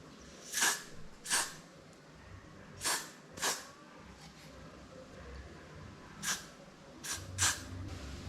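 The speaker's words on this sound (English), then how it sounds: "I'm gonna be spraying the Got2b glue spray close to my hair." Several short, sharp hissing bursts from a Got2b glue aerosol hair spray, sprayed close to hair, fired in quick pairs with brief pauses between them.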